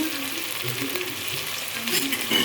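Potato and carrot pieces with salt fry in a pan with a steady, even sizzle, and a few soft stirring scrapes rise just above it. No one speaks.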